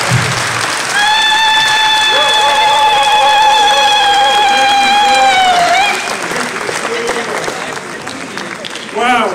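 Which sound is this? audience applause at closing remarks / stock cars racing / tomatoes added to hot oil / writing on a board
audience applause at closing remarks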